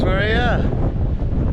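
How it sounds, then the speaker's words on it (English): Strong wind buffets the microphone with a continuous low rumble, while a person speaks briefly at the start. "Very windy up here today."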